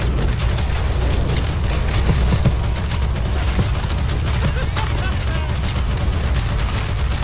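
Rapid gunfire in the video game CS:GO, dense bursts of overlapping shots and booms running continuously under a voice.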